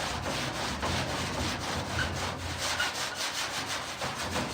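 An abrasive pad rubbing paint off the body of a 1969 VW Westy in a single garage, a loud, steady rhythmic scrubbing in quick back-and-forth strokes, with no voices.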